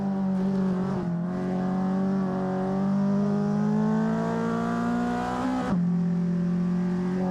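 A race car engine in the Assetto Corsa sim, on a touge mountain run, holds a steady loud drone with layered harmonics. Its pitch rises gradually as the throttle is fed in carefully, then drops sharply near the end as revs fall and build again.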